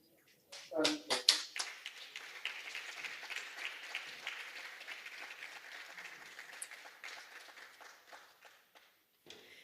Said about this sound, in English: we thank you for giving that round of applause for Patrina Hall